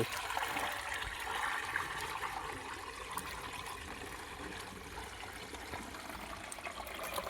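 Water flows steadily through an irrigation channel in a farm field, a constant broad rushing and trickling at moderate level throughout, with no talk.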